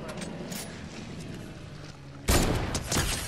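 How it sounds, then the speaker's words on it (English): Sniper gunfire in the Fortnite video game cracks out near the end, a loud sharp report followed by a second burst, after a stretch of muffled game background with faint clicks. "Someone's shooting at us."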